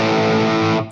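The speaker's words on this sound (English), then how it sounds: "That's a really kind of natural sounding overdrive distortion." An electric guitar runs through a Wampler TCD overdrive distortion pedal: one loud, gritty sustained chord rings out steadily, then cuts off abruptly at the end.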